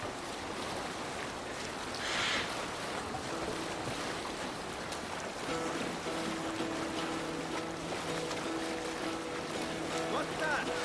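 A Viking longship under sail at sea in Assassin's Creed Valhalla, with steady wind and water wash throughout, a gust swelling near two seconds and low tonal creaks entering midway.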